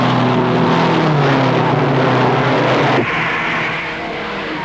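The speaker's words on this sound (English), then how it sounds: "33 cars string out, moving down the backstretch" Loud roaring engines of the 33-car field at the 1961 Indianapolis 500 drone together as the pack passes down the backstretch, steady and dense, with the pitch shifting slightly as they move away.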